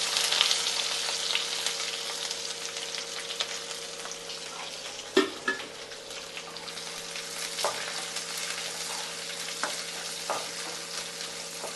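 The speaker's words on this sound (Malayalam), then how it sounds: "സവാളയെല്ലാം നല്ലൊരു ഗോൾഡൻ കളറായി വരട്ടെ." Sliced onions fry toward golden in a pan with a steady, moderate sizzle. Occasional sharp clinks and scrapes of stirring break through, and a faint hum sits underneath.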